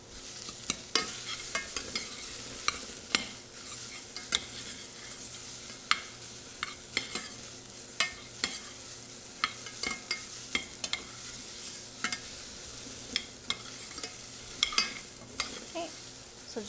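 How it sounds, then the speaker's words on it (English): Green curry with coconut milk simmers in a pan under a soft constant sizzle while a utensil stirs it, producing repeated light scrapes and taps at irregular intervals, close and fairly quiet. "So just giving it a stir"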